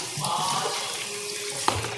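Cooked macaroni rinsed in cold water under a running kitchen tap for a macaroni salad, a steady close splashing stream with a small clink near the end.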